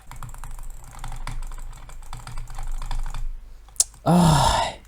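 A computer mouse taped in place is clicked very rapidly in a fast, even stream of close clicks for about three seconds, followed by a loud voice shouting near the end.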